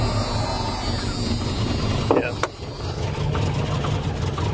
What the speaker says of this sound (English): Every now and then you hear a little tuck, tuck, tuck, but yeah, it's pretty quiet right now.